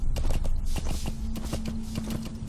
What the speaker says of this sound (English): if we're up on a horse like this, it's easy to be spotted